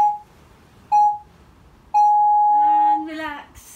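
Electronic beeps from a workout interval timer during a bodyweight HIIT session: two short tones about a second apart, then a longer sustained beep, with a brief falling warble at the end, clear and close.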